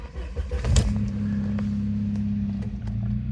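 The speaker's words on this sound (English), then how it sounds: "and then I start the car" A Saab 9000 engine cranks briefly and catches, then settles into a steady, close idle hum that continues evenly for a few seconds, with faint clicks over it.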